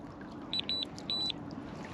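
Electronic fishing bite alarm on a pike deadbait rod at a still-water lake, switched on: three short high-pitched beeps in quick succession, the second and third longer, clear over quiet outdoor background.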